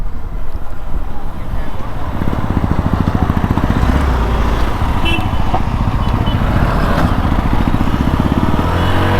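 A Hero Xpulse Rally Edition motorcycle engine while riding, a loud, steady, rapid thumping drone with rushing wind buffeting the microphone throughout.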